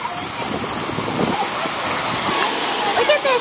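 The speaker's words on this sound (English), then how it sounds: "It really is raining, isn't it?" Steady outdoor rain hisses and patters broadly at a water slide park, with a voice talking over the wash.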